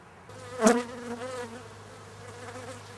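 Honeybees buzzing close by at a hive affected by AFB disease, a steady insect drone with one louder pass as a bee flies near the microphone, heard alone without talk.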